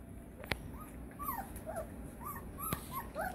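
Young Newfoundland puppies let out a run of thin, scattered whimpers and yips at low volume, with two sharp clicks or knocks in the background and no talk.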